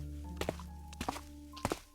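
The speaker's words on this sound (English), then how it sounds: "In the vast open space, only the echoing sound of my footsteps breaks the silence." Three pairs of hollow footsteps echo through a vast, empty, dusty hall in a video game, spaced roughly half a second apart over a steady low ambient drone with sustained tones, no voices.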